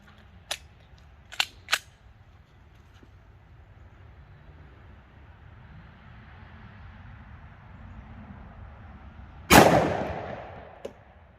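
A 10mm pistol with a red dot plate fires Federal HST 200gn ammunition in accuracy testing, one loud sharp shot with a ringing tail after a few faint clicks in a quiet setting.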